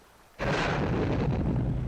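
A cannon shot strikes a river and explodes, an abrupt, loud blast that bursts in after near silence and keeps up a dense, rumbling roar with no talk.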